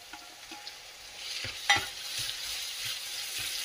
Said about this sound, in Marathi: 5 ते 10 मिनिटं हा सुद्धा आपल्याला परतवायचा आहे